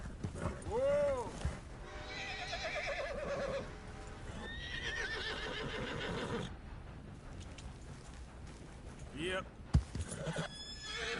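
A horse in the Red Dead video game neighs loudly near the start and its hooves clip-clop in a steady gallop throughout, while someone talks to and urges on the mare over the riding sounds.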